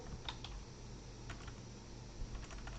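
Quick, light typing on a computer keyboard, a steady patter of soft key clicks with a few sharper taps, close and quiet with no speech.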